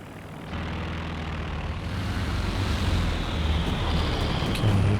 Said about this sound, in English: here comes a recon plane